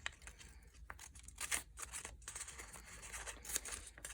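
Scissors snipping paper strips to cut out teeth shapes for an art activity, a series of quiet, close crisp cuts and rustles of paper at an uneven pace.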